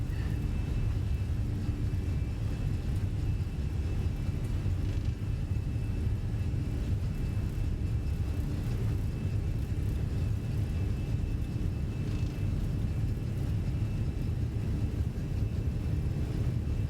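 An Airbus A320 accelerates down the runway at Phoenix in Microsoft Flight Simulator 2020, its jet engines giving a steady, unbroken low roar and rumble that holds at an even level throughout.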